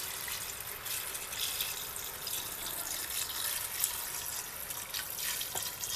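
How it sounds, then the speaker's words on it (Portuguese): Water poured into a cooking pot to cover tripe, a continuous rushing, splashing stream that stays loud and close for several seconds, with no talking. "Aqui nós vamos colocar água para encobrir a dobradinha."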